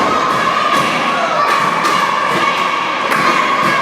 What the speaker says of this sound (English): you can hear the fans cheering Chance Prophet on